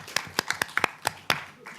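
Audience at a data-jurisdiction workshop in New Delhi claps: a few sharp, distinct hand claps spaced irregularly over under two seconds, fairly close, with some faint voices between them.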